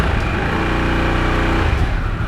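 A 2023 Harley-Davidson Sportster S engine revs in neutral against its 4,000 RPM limiter, giving a loud, steady, throbbing drone that shifts and drops near the end, with no talking.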